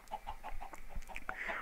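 Blocky Minecraft chickens in a farm field give a quick run of repeated clucks, steady and close, with no voices over them.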